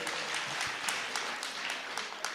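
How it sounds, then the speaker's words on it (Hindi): An audience at a kavi sammelan claps in a dense, continuous patter of applause, moderately distant and fairly even throughout, with no speech over it. "तालियां आनी चाहिए।"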